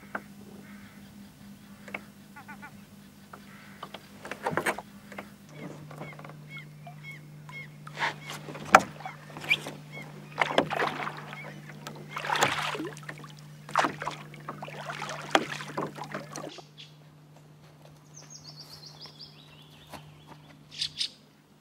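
Rowboat being rowed on water, steady oar strokes giving a series of knocks and splashes over a constant low engine-like drone, with a few faint bird calls near the end.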